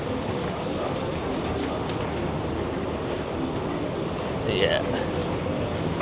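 A metro train running through a station in Dubai, a steady close rumble and rail noise filling the whole stretch, with a brief voice speaking over it.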